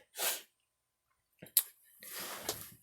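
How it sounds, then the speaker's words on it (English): A single sharp sneeze, close and sudden, with a quick breath before it and some rustling afterward. "I gotta sneeze."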